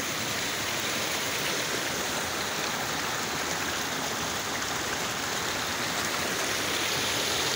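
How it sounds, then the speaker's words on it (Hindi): A small roadside drain near a house, swollen and overflowing with rainwater during the monsoon in hilly terrain, rushes steadily with a dense, unbroken wash of flowing water, close and loud, with no voices. "छोटा सा नाला है हमारे घर के पास में और इतनी देर से पानी बह रहा है।"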